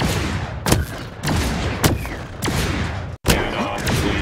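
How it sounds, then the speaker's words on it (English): Minigun fire in the block-building shooter Block N Load comes in loud repeated bursts of rapid shots, four or five close volleys separated by short pauses, one brief dropout midway. "Minigun testing in progress."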